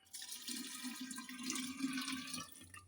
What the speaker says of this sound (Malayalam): ബാക്കി വെള്ളവും കൂടെ നമുക്ക് ഒഴിച്ചു കൊടുക്കാം